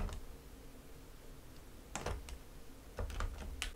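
Computer keyboard keys tapped while working in ZBrush, Ctrl, Shift and Alt held down: a few quiet, close clicks arriving in two small clusters over a low steady background hum.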